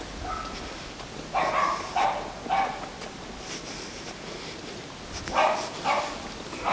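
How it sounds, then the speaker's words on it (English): Dogs barking from a countryside farmhouse beside a riverside woodland walk, a few separate bursts at moderate distance over steady outdoor ambience. "It's the dogs from the farmhouse."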